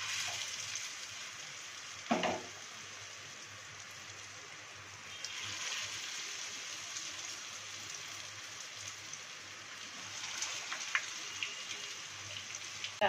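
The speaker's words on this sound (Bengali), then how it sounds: "তেলটা আমার গরম হয়ে গেছে। এরপরে আমি পকোড়াগুলো এক এক করে ভাজবো।" Ash gourd peel pakoras deep frying in hot oil, a steady soft crackling sizzle throughout with a few brief louder pops and bursts, no talking.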